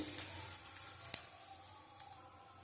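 Panch phoron and a dried red chili sizzle in hot oil, a soft steady hiss with faint crackles and one sharp pop, quiet and close, fading slightly toward the end.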